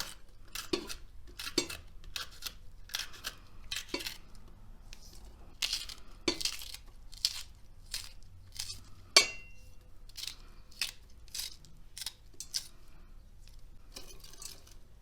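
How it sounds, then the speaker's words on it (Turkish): Peppers are chopped roughly for an olive-oil pea dish, with irregular knife taps on a cutting board coming in short runs and a louder knock midway, quiet and without talk. "Biberlerimizi de çok öyle küçük küçük doğramaya gerek yok"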